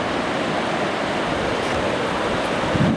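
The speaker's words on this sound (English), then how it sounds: "Some nice waves running around here." Ocean waves surge steadily onto a rocky beach near Portsoy, Banff, in front of a caravan site, making a loud, continuous close wash of surf with no talking.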